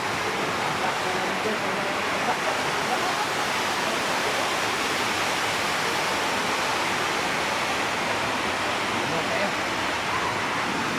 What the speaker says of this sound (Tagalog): Grabe ka kusog sa uwan, guys.